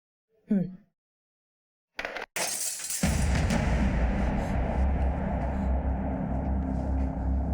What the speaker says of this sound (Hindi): अरे ये कांच किसने तोड़ा?